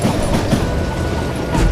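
A train rolls steadily through a Wild West level of the shooter game Call of Juarez: Gunslinger, giving a continuous rumbling clatter of wheels on rails that stays loud and close throughout with no speech.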